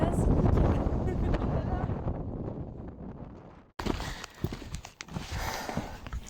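Strong wind buffets a microphone on a rainy, fog-covered mountain summit, a loud, continuous rumbling roar that breaks off abruptly midway and returns with gusty bursts.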